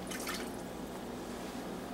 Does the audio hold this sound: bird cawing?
no